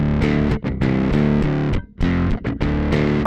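Bass guitar run fully distorted through a Darkglass Kaamos drive pedal, a loud, saturated, buzzing tone of sustained notes broken by a few brief gaps.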